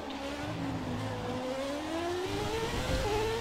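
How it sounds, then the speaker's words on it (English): V8 and V12 Formula 1 engines race in the F1 2017 game, a Ferrari 412 among them, with rising overlapping engine whines climbing through the gears at a steady, moderately loud level. "V8 versus V12 yet again here with Ferrari 412."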